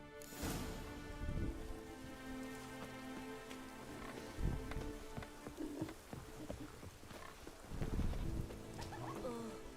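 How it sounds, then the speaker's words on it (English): Rain in The Witcher 3 video game: a steady, soft patter of rain with a few low rumbling swells, under quiet sustained background tones. "Raining again?"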